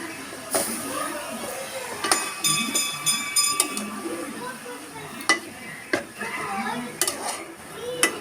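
Utensils scraping and clinking against a pot over a low sizzle, with scattered metallic taps and some faint background sounds.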